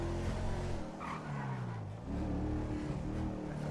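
Range Rover engine in GTA 5, a loud, close growl that rises and falls through revs, sliding pitch sweeps with brief tire squeal, aggressive and continuous.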